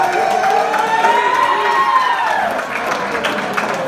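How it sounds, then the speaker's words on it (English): A loud fight crowd claps and cheers, with whoops and a rising whistle-like shout over the roar of hands. "give it up to round of applause."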